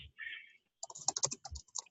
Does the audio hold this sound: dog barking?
no